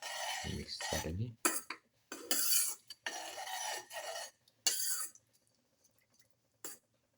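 Blackberry milk vermicelli mixture being stirred with water in a pot, giving bursts of scraping, rasping strokes and utensil clatter, separated by short pauses and fading out toward the end.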